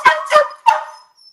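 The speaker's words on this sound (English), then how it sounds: "it sounds like the dog is calling you" A dog gives three short, sharp yelping calls close by, each a quick bright burst with brief gaps between them, then silence.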